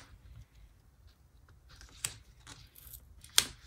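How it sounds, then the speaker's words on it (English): Paper starts to tear on a planner page as a sticker is peeled, with soft rustling and a couple of sharp crisp rips close by in a quiet room. "I hear the paper starting to tear"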